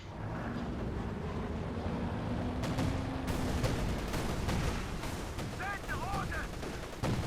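Battle gunfire from Company of Heroes 2, a World War II strategy game, with dense machine-gun bursts and shots in a loud, continuous combat mix and a voice faintly beneath.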